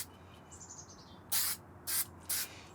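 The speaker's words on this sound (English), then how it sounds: "This nozzle sprays in all directions." Super 77 spray adhesive hissing from an aerosol can nozzle outdoors, heard as three short, sharp bursts of spray with a faint bird chirp in the background.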